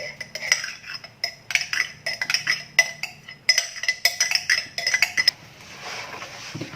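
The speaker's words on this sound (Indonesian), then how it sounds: "Ternyata susah aduk pakai sumpit." Chopsticks stir bread dough in a basin with rapid bursts of light clinking and scraping against the bowl. The rhythmic clatter is close and fairly loud, and it fades into a softer rustle near the end.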